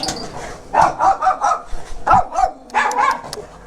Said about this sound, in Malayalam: കുരയ്ക്കുന്നതേ ഉള്ളു